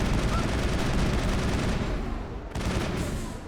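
Sustained, rapid gunfire in the video game Mass Effect, aimed at a cluster of flying enemies in the Noveria Hot Labs. It is dense and continuous, with a short dip before the firing resumes.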